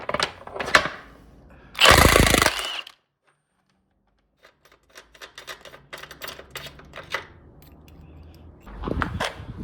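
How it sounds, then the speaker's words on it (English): Metallic clatter and a loud burst of a tool working on the rear axle nut of a ZX10R motorcycle with a 32 mm socket, followed by a silent pause, then scattered clinks and ratcheting, ending with another burst. "you're gonna need a 32 millimeter to take the rear axle nut off."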